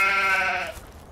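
A sheep bleats once in Farming Simulator 2015, a close harmonic call that holds steady and then fades out over a low ambient background.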